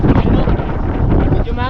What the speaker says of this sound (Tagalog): malakas ang hangin ngayon, malakas